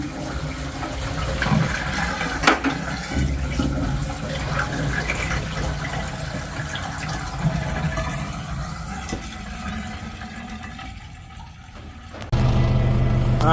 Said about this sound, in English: So let's pour some water down here first.